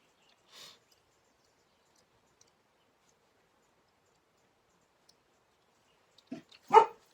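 A dog barks a few times at a distance, brief sharp yaps separated by long stretches of near silence.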